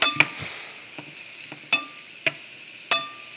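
Chicken browning in a frying pan sizzles softly while a utensil stirs it, with several sharp scraping clinks against the pan at irregular intervals.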